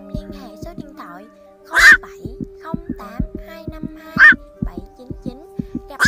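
Black-crowned night herons call in repeated harsh, low croaks with overlapping notes, plus two louder squawking bursts, fairly close and loud.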